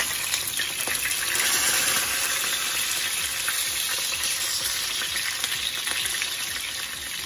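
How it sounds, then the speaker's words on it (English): Fish skin crisping in a hot pan with oil, a steady, close, bright hissing sizzle with fine crackles that holds evenly throughout, no voices. "I'm just going to fry a little bit crispy on the skin."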